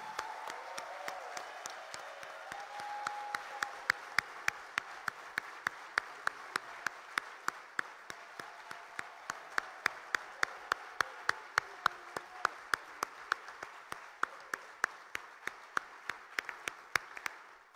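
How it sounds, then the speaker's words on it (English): Applause from a modest crowd at a World Scout Committee candidates' presentation event, fairly faint, with a few sharp individual claps standing out clearly in a steady rhythm throughout. "We can applaud for everyone."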